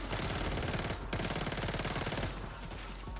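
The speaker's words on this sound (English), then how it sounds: "all I hear is gunfire and eat gunpowder." Rapid automatic gunfire from the video game Once Human rattles continuously and loudly, dense bursts almost without pause, with a brief dip near the one-second mark before the firing resumes.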